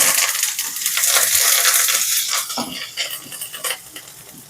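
Curry leaves hit hot oil already holding tempering seeds and broken dried red chillies for peanut chutney, giving a loud, close crackling sizzle with scraping stirs that gradually settles and thins out.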